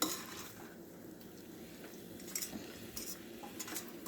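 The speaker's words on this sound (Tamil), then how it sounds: "மசாலாலாம் கோட் ஆகுற மாதிரி கிளறி விட்டுக்கோங்க." Mushroom biryani masala stirred in a pot, a soft continuous scraping and gentle sizzle with a few light clinks of the spoon against the metal, quiet and close, with no talking.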